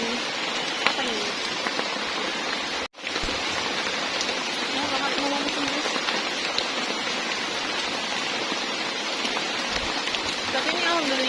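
Heavy rain pours steadily outside a tree house, a dense, loud hiss of drops hitting surfaces that continues throughout, broken only by a momentary cut near the start.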